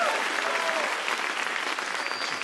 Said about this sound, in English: you ought to clap if you're grateful